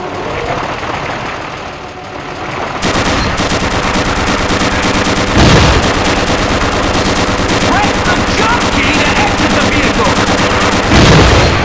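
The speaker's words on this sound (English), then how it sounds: "Press your crouch key to fire the machine guns!" Tank-mounted machine guns in Gunman Chronicles rattle continuously and loudly inside an asteroid, with a steady engine hum beneath the sustained bursts.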